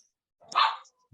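A single dog bark in a family home, one short loud bark standing alone, followed by the start of a voice.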